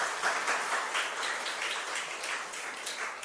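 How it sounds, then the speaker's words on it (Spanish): Congregation applauding in the Santa Teresita del Niño Jesús chapel for a birthday: a steady wash of many hands clapping together at moderate volume, with no speech over it. "un fuerte aplauso para ella entonces"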